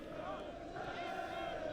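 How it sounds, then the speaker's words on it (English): Sherborne School supporters sing their Latin school song en masse at a rugby schools cup quarter-final, a sustained, blended choral roar from the stands with no breaks across the moment. "That's them singing a rendition of our school song at the moment"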